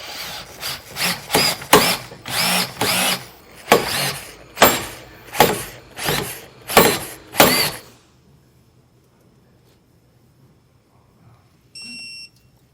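A power tool, likely an impact driver, runs down leaf spring suspension bolts on a 2019 vehicle in about ten short, loud rhythmic bursts over eight seconds, then quiet with a faint beep near the end.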